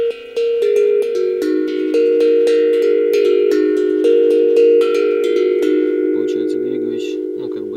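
A double-sided steel tongue drum (glucophone) played on its scale using only five large tongues, with bright metallic bell-like strikes in a steady flowing run, each note ringing into the next, loud and close.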